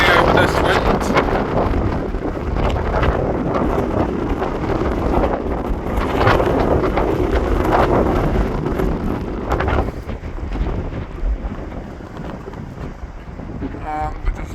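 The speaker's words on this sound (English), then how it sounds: "Hopefully you can hear me over this wind." A strong gale on the Wirral coast near Perch Rock fort roars and buffets the microphone in loud, constant gusts, easing slightly toward the end, with faint water and vessel sounds beneath.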